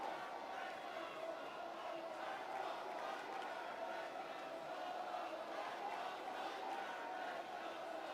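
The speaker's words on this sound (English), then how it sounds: "Crowd is getting loud here in Glendale, Arizona." Arena crowd noise at a WWE Monday Night Raw wrestling event in Glendale, Arizona: a steady, dense roar of many voices with shouts rising over it, sustained without a break.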